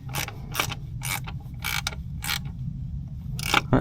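A ratchet tightens a bolt on a car engine near the turbo, giving about seven bursts of close, loud, rapid clicking separated by short pauses over a low mechanical hum. No one speaks.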